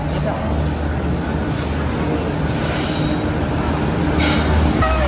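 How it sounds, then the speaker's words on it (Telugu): A train rumbles loudly nearby with a continuous heavy drone and occasional high wheel squeals, voices faintly mixed in. "ఎంతసేపటి తర్వాత ట్రైన్ వచ్చింది ఇప్పుడు ఎక్కుతున్నాం"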